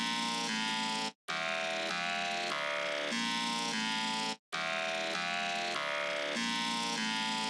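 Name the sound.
bass one-shot from Drakon stash kit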